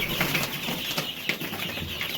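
Healthy, lively chicks move about, giving a busy close-up rustle of fluttering and scratching with faint peeps and no voices.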